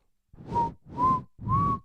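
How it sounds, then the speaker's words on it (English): A person whistles three short rising notes, each held for about a third of a second with brief gaps between, close and clear with no talking. "Guys, I can whistle."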